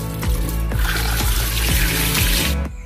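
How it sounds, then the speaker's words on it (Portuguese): Kitchen tap running loudly and steadily into a sink while beef is washed with a little vinegar, with a few clunks of handling along the way. "Para lavar a carne, eu vou colocar um pouquinho de vinagre."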